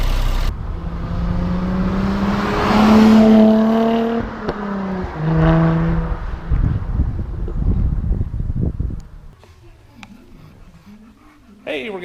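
A 2016 Jaguar F-Type with a supercharged engine and six-speed manual drives nearby, its engine note rising and shifting through several revving pulls with wind noise, then dropping to a quieter idle-like rumble near the end.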